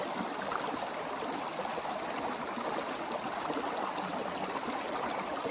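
Steady broadband rush of a waterfall flowing outdoors, continuous and fairly loud with no pauses or voices.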